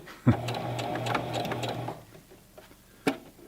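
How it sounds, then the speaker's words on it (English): A Singer Classic Heavy Duty sewing machine stitches fast on a plastic table, a close rapid mechanical whir lasting under two seconds, set off by a sharp click and ended by another knock. "This machine will sew fast"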